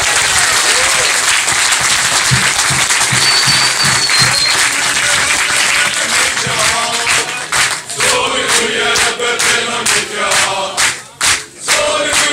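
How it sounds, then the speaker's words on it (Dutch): Audience applause at a carnival event, Vlaghijse RAAF 2020, at a prince's residence in the Netherlands; dense, loud clapping throughout, with cheers and voices mixed in and growing more uneven and broken toward the end. "En dan wil ik graag alvast een applaus voor deze twee"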